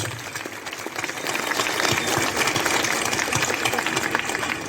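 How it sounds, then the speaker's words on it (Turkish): Applause breaks out from an audience at a political rally in Çukurova, a dense, continuous patter of many hands clapping that starts slightly softer and swells to a full, steady ovation. "Büyük bir alkış."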